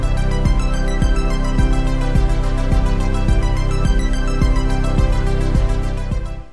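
Electronic production layering an e-kick sample with a sustained pad, an arpeggiated lead and a bass line, the kick thumping on a steady pulse beneath the bright rippling arpeggio, loud and continuous with no voices.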